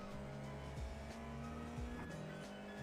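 A Formula 4 race car in an iRacing sim at Road Atlanta squeals its tires while spinning out. The engine note drops and rises in sweeping pitch bends over a steady, muffled roar with no talking.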